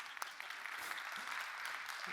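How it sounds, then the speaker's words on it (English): A conference audience applauds at a university fair, a dense steady patter of many hands clapping that fills the room throughout, moderately distant and even in level. "You can clap now."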